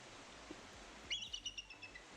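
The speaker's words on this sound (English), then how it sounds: "That's what a bald eagle sounds like, guys." A bald eagle calls in a thin, high series of rapid chirping notes, faint and short, over a quiet background hiss.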